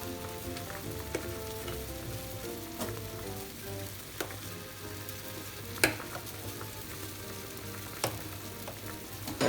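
A pot of pork miso soup (tonjiru) heats toward a boil, giving a steady bubbling, sizzling hiss with a few sharp clinks from a utensil or pot now and then.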